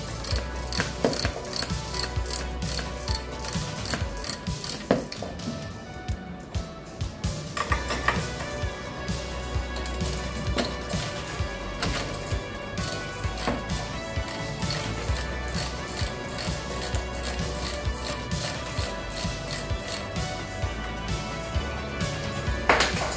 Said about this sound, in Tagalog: Gagamit pala tayo ng number 14 socket wrench at 21 open wrench na pangontra.